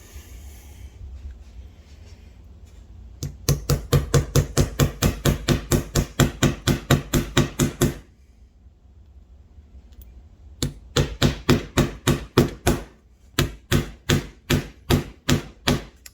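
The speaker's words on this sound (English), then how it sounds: "Alright, I get to hammering" A small hammer strikes a Geiger Edelmetalle gold bar in rapid, loud, evenly spaced blows, two long runs of a dozen or more metallic taps separated by a brief quiet pause, with no talking.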